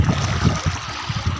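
Clear water of the Jhelum river flowing nearby in a steady rush, with soft rhythmic low surges rising and falling every fraction of a second, alone without voices.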